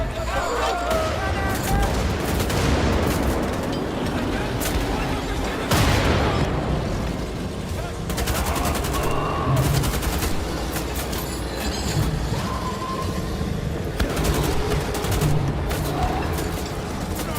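Wolfenstein: The Old Blood combat, with dense bursts of rapid gunfire and heavy blasts from grenades, loud and continuous, with a voice talking at times beneath the shooting.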